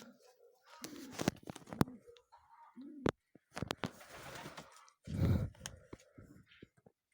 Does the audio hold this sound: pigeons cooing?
yes